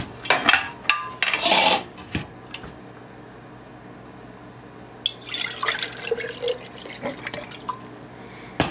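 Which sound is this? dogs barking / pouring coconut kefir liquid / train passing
pouring coconut kefir liquid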